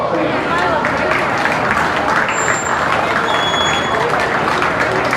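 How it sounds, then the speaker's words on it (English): A county fair beef show crowd applauds the kids, a dense, loud wash of clapping that holds steady from start to finish. "So let's give all these kids a round of applause"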